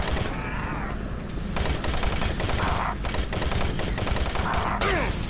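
Rapid submachine gun fire from enemy soldiers in the classic Doom first-person shooter rattles in dense bursts over game sound, loud and continuous for about five seconds.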